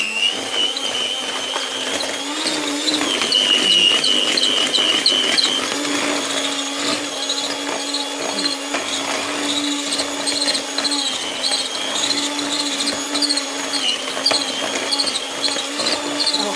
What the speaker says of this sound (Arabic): عشان كده انا جبت الخلاط ده، المضرب ده.